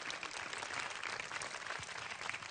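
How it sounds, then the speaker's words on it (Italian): An audience at a provincial beauty pageant applauds as a guest named Marco is welcomed, a faint, even wash of distant clapping held at a steady level throughout. "Fate un applauso anche a Marco"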